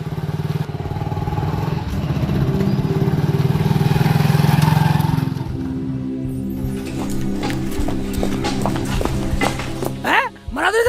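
A motorbike engine drones loudly and steadily for the first few seconds, then drops back while people talk over it.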